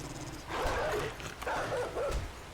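A dog in the survival game 7 Days to Die gives two short harsh bursts of barking or growling, fairly close and loud over a low background rumble, with no talking.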